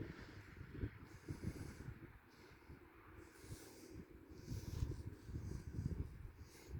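Wind buffets the microphone in low rumbling gusts, steady and fairly loud throughout with no voices.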